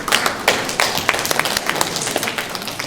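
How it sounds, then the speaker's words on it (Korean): A crowd at a delegates' orientation claps together, a dense patter of many hands with sharper individual claps standing out, moderately loud and steady. "우리 윤광목 대의원님 큰 박수 받아주시기 바랍니다"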